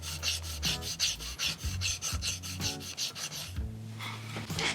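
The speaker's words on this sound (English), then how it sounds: "you're gonna rub it on the paddle where it's gonna contact the actual box." Chalk rubbed back and forth on the wooden paddle of a turkey box call, a quick series of rhythmic, dry scraping strokes heard close and alone.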